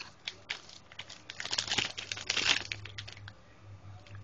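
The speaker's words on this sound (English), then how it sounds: "Just go ahead and rip it open and see what's inside." A Topps baseball card rack pack torn open by hand, a close, quiet burst of crinkling and ripping wrapper that builds to a louder tear, then settles into softer rustling.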